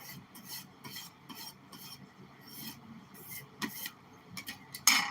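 A hand smooths and rubs over a paper party plate, giving soft, close rustling and scraping strokes in an irregular rhythm, ending with a sharper crinkle.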